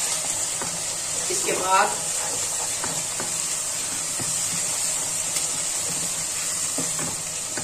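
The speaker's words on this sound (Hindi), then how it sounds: "अब इसमें एक टेबलस्पून हमने लहसुन का पेस्ट डालना है और एक टेबलस्पून हमने अदरक का पेस्ट डालना है। इसको भी भूनेंगे।" Garlic and ginger paste fries with meat for aloo gosht, a steady sizzle with occasional stirring knocks throughout, while a person briefly speaks partway through.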